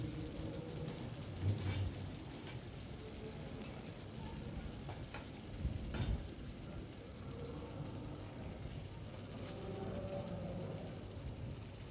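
Potatoes added to spiced oil fry in a pan with a soft, steady sizzle, and a couple of louder bursts as pieces drop in or get stirred.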